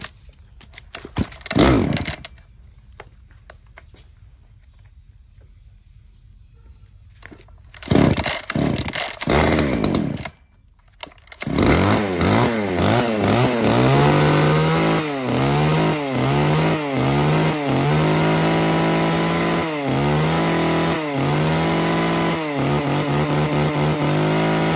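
A small one-handed Ryobi chainsaw weighing about 3 kg sputters through a few failed pulls, then starts and runs loud and close, revving repeatedly over a steady idle.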